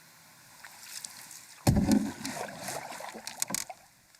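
A canoe named Old Yeller dragged through a swamp: a sudden heavy scraping thud, then rough grinding and sloshing water, a few sharp knocks near the end, close by with no talking.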